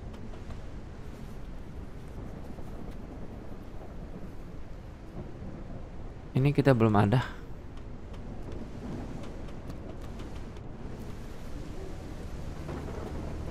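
Heavy rain pours steadily in the zombie survival game Surroundead at nightfall, broken midway by one loud, sharp thunder crack that rumbles briefly before the downpour carries on alone.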